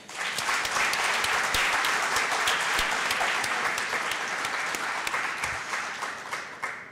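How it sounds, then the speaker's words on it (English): An audience at a panel talk on citizenship in the Dominican Republic gives the panelists a sustained round of applause, with dense clapping and some sharper individual claps, fading gradually toward the close. "Please give our panelists a round of applause."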